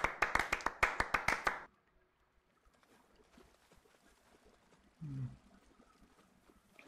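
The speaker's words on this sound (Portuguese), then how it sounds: "Vamos bater uma salva de palmas aqui pro profissional." Hand clapping applause, a quick run of about nine sharp claps close by that stops abruptly, followed by quiet background rumble.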